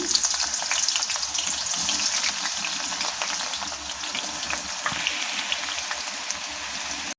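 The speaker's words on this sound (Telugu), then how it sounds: "ఇప్పుడు ఉల్లిపాయ డీప్ ఫ్రై చేసుకుందాం." Sliced onions deep fry in hot oil for chicken dum biryani, a dense, continuous crackling sizzle close by, steady throughout like heavy rain.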